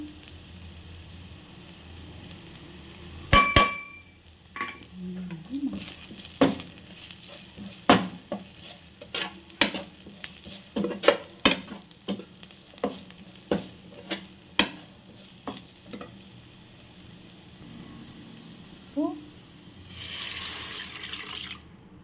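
Ginger, garlic and cumin cook in a pan while a spoon knocks and scrapes in a series of sharp clicks and taps over a faint sizzle, then a short burst of louder hiss near the end.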